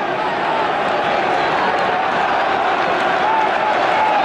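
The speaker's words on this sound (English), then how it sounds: "And applause for Nigel Winterburn as the doughty fullback goes across to take this" Crowd applause and general stadium noise from a large football crowd at an Arsenal versus Manchester United match, a steady broad wash of clapping held at a constant level throughout with no clear break.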